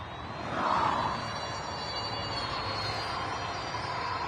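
A small UMX A10 radio-controlled model airplane makes a low pass outdoors. Its electric motor whine swells briefly as it goes by, then settles into a steady, moderately loud drone.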